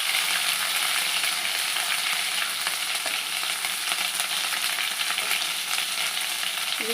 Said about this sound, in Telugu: బాగా పచ్చి వాసన పోయే వరకు వేపేసుకోవాలండి అల్లం వెల్లుల్లి పేస్ట్.